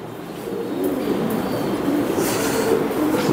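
Pigeons coo at a farm, a continuous low burbling chorus under a steady hiss of background noise, with no talk.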